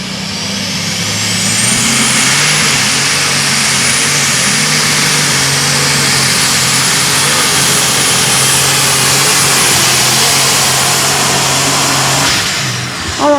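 The Case pulling tractor Evening Thunder roars at full power during a tractor pull, loud and sustained for the whole stretch. A high whine from the engine runs steadily on top of the roar.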